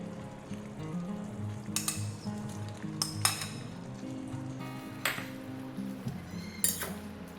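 Small chuno fish go into a pot with star fruit, giving a continuous close sizzle broken by several sharp metallic clinks of a utensil against the pot.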